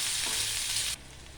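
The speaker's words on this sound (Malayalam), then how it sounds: "ഇഞ്ചി വെളുത്തുള്ളിൻ്റെ പേസ്റ്റ് അത് നല്ലോണം ഇളക്കി കൊടുത്ത് വേവിച്ചെടുക്കുക" Chicken pieces with ginger-garlic paste sizzle and fry in a pan while being stirred. The loud, close hiss carries faint scraping and cuts off abruptly near the end.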